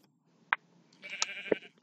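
Sheep in a survival video game bleating, a short bleat followed by a longer, wavering call and a sharp thud, fairly faint and close against a quiet background.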